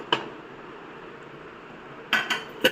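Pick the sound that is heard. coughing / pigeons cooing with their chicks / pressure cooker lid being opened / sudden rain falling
pressure cooker lid being opened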